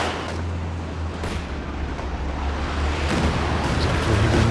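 Mortar fire on a Company of Heroes 2 battlefield sounds as a loud, continuous low rumble with faint distant blasts and no clear single shots.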